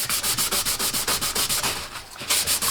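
Sandpaper rubs over clay-coated exhaust tips in quick, steady back-and-forth strokes, a close, continuous scratchy rasp with a regular rhythm and no talking.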